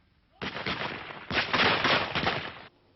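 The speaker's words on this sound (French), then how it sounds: "Une mitrailleuse Bren anglaise." An English Bren machine gun firing in a wartime setting, heard as dense rapid bursts of shots, loud and somewhat distant with a muffled, band-limited quality, about two seconds of continuous fire.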